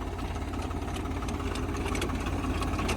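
Tractor engine running in a potato field during harvest, a steady close diesel throb with a pulsing low beat and no voices.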